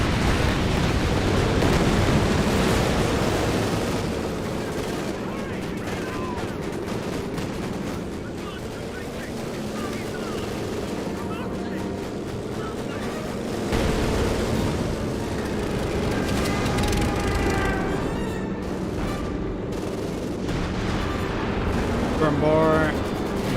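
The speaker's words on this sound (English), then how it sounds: "Now got the strafing support from the British players." Support aircraft strafe infantry in Company of Heroes 2, with sustained rumbling gunfire and explosions layered under steady commentary from a voice speaking throughout.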